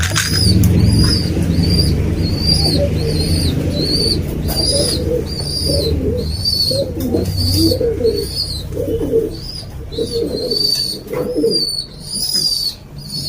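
Breeder pigeons coo steadily in a loft, a dense low murmur of many birds overlapping up close, while a repeated high chirping sounds above them throughout.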